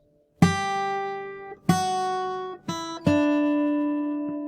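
Fingerstyle acoustic guitar plucks the opening of the Christmas melody Joy to the World: four clear single notes, each ringing and decaying before the next, the last one held, played slowly and alone.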